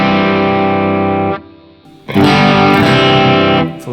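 Distorted electric guitar through a Matchless D-30 amp model on a Fractal FM9 modeler, a loud sustained chord that cuts off, a brief quieter pause, then a full, bright crunchy strum ringing on.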